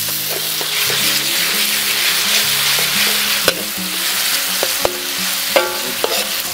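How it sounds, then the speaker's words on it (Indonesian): Mushrooms fry with blended sambal in a pan, a steady loud sizzle under scraping stirring strokes, with a few sharp clacks of the utensil against the pan. "Kita campur sambal yang udah di blender dari rumah."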